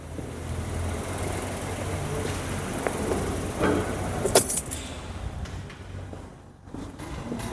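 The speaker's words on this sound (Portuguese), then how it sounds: "Vou desligar o carro." Car engine being switched off during an oscilloscope transducer lesson on a three-cylinder engine, a low idling rumble that fades away, with a brief bright jangle of keys in the middle.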